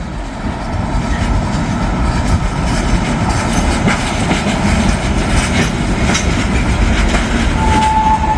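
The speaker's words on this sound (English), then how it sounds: "there's a train coming back with that Caboose" A freight train hauling a 56-year-old working caboose rolls past close by, a loud continuous rumble with rhythmic wheel clatter and faint squealing building over the passage, no talk.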